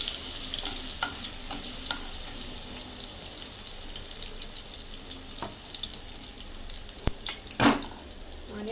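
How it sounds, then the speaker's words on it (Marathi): Chopped garlic sizzling in hot oil for a tempering while cooking egg chutney, a steady close hiss with occasional spoon clinks and a brief louder clatter near the end. "तर आता आपलं लसूण फोडणीला टाकले मी।"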